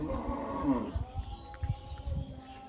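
A two-toothed bull of a local breed lows once, a drawn-out moo near the start, followed by shuffling and thuds of the animal on a farm in Muktagachha, Mymensingh.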